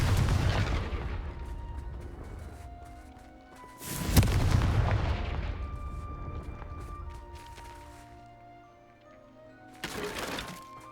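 Confringo spell blasts go off in the video game Hogwarts Legacy. There are three booming explosions, at the start, the middle and near the end, each followed by a rumble that fades.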